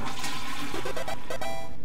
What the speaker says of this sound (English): You flushed the toilet.